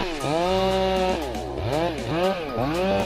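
Chainsaw cutting old pine trees on a northern coast, its engine revving and dropping in repeated swoops as the chain bites into the wood, loud and close.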